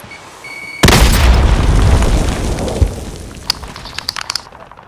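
A frag grenade explodes in Warzone with one loud, close boom that rumbles for about two seconds, followed by a few faint pops and crackles.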